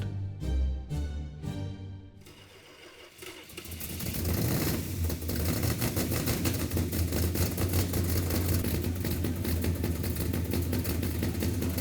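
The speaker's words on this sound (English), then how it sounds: "And fired it up on the engine run stand." A Hemi V8 in a 1971 Cuda build runs on an engine run stand: a few sharp bursts at first, then a loud, steady, rumbling idle close by, with no talking.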